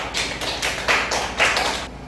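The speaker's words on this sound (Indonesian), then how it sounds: "Tepuk tangan dulu, tepuk tangan." Pupils in a classroom clap together in a steady rhythm, about five loud, even bursts in quick succession with no talking over them.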